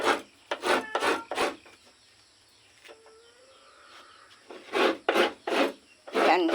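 Rhythmic rasping scrapes of coconut being grated by hand come in quick bursts, pause for a stretch with a faint bird call, then resume.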